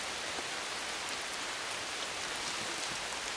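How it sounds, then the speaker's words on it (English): Rain falls on a tarp lean-to shelter at a woodland camp as a dense, even hiss of drops that continues without pause, steady and close, with no voices. "I'm glad we managed to walk in before it rained."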